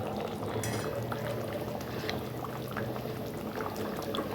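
Boal fish curry with chunks of eggplant boiling in a pan: a steady close bubbling and gurgling simmer with small pops and no pauses, no talking.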